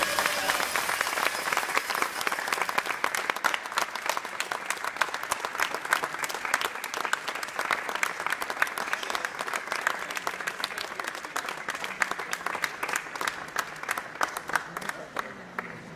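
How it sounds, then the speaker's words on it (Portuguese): Sustained applause from an audience at the final of a national Carcassonne board game championship, dense clapping holding steady for the whole stretch before tapering slightly at the end. "Estão preparados para as palmas?"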